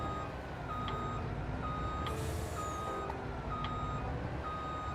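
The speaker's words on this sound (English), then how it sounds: "it has the beep beep sound when you're backing up" Steady reversing beeps from a farm vehicle backing up in Farming Simulator 25, evenly spaced tones repeating over a continuous engine rumble, moderately loud and alone with no talk.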